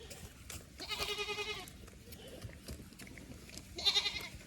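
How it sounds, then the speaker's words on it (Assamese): A goat bleats nearby in two wavering calls, the first longer and the second shorter a few seconds later, over faint room noise. "ছাগলী চিঞৰি থাকিলে কেনেকুৱা লাগে"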